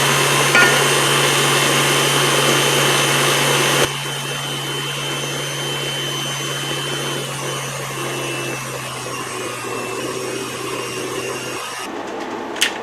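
An electric mixer whirs steadily as flour mixture is stirred into dessert batter, a loud continuous motor drone that drops to a softer, lower whir partway through and ends with a brief clatter.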